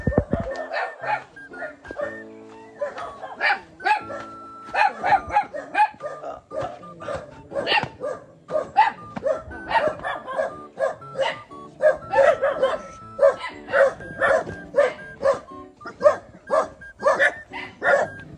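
A dog barks nearby in repeated short yaps and bow-wows, irregular bursts with occasional whimpers, fairly loud and close throughout.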